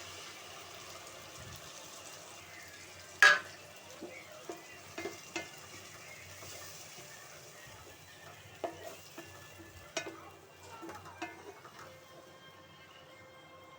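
Tomato paste frying with softened onions in a pan for a fish gravy, a low steady sizzle broken by occasional clicks and scrapes of stirring.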